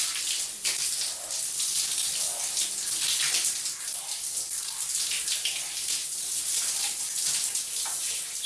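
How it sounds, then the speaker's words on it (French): Shower water running steadily over wet hair, a continuous close splashing hiss with no talk. "je mouille mes cheveux"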